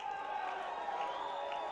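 A crowd at a Lake Tahoe fight event cheers and applauds in a steady, dense wash of noise, with whoops rising out of the roar across the whole stretch.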